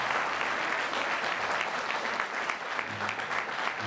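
Sustained applause from an audience, many hands clapping together in a thick, steady roar that holds throughout.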